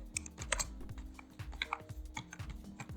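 Someone types a form name on a computer keyboard, giving quick irregular clusters of light key clicks and taps, close and steady, with no talking.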